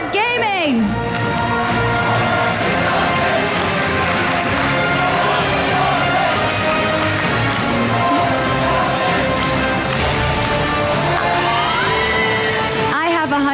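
A large crowd at a League of Legends esports match cheers for Gambit Gaming, a dense, loud, continuous roar of voices and shouting that holds steady throughout, with an announcer's voice over it.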